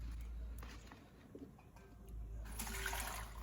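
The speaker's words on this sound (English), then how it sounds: "I'm going to pass it through this filter bag, which I've boiled." Homebrewed Korean rice wine (samyangju made with sunuruk) is poured through a boiled filter bag, giving a steady close trickle and splash of liquid that swells louder toward the end, with no talking.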